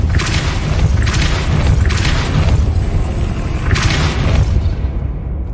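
A Depulso spell cast in Hogwarts Legacy on PS5 lands as a series of heavy booming impacts over a constant low rumble, with several bright bursts of force spread through the clip and a loud, dense game soundscape throughout.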